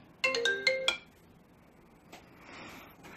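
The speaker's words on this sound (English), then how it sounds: "But why my ringtone like that though?" A mobile phone ringtone chimes in a quick bright burst of bell-like tones, two short rising phrases, then fades into quiet room hiss with faint rustling.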